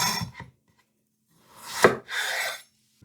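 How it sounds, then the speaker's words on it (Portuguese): A knife cutting through a small eggplant half, a short rasping slice, a pause, then two longer crunching strokes against the board, close and alone. "Aqui utilizaremos meia berinjela, essa daqui é uma berinjela pequena, e cortar desse jeito aqui"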